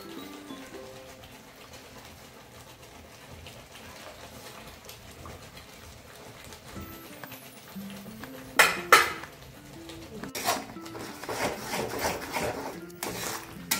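A spoon scrapes and stirs chili powder, turmeric, coriander powder and garam masala in a pan for a homemade fish curry, soft rubbing at first, then sharper metallic scrapes and knocks near the end.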